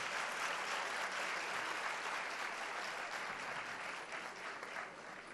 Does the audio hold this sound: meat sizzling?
no